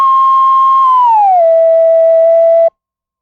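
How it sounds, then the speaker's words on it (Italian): An electronic guide tone meaning turn left: a loud steady beep that slides downward in pitch partway through, then holds the lower note until it cuts off suddenly. "La spia sonora è questo suono guida."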